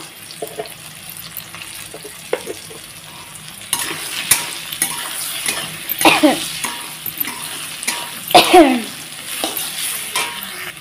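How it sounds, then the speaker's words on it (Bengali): Potatoes and eggplant fry in hot oil as turmeric is added, a steady sizzle broken by repeated scraping stir strokes that grow louder and busier toward the end, close up and without speech. "আলু বেগুনটা আমার পুরো ভাজা হয়ে গেছে, বেগুনটাও সুন্দর দেখুন লাল হয়ে এসছে।"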